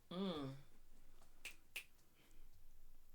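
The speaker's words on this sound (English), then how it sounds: "Snaps and claps." Two crisp finger snaps ring out close and clear in quick succession after a short vocal sound, then quiet low background hiss.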